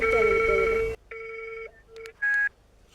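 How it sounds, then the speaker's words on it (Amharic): A phone line rings with a steady electronic tone, stops, then repeats in short bursts, fairly clear and close. "ኦልሬዲ እየጠራ ነው።"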